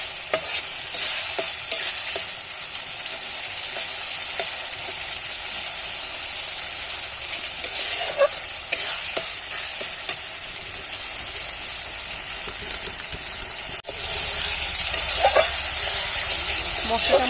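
Spice paste frying in hot oil in a pan before meat goes in for a meat and peas curry, a steady close sizzle with stirring scrapes that grows louder near the end, with someone talking over it.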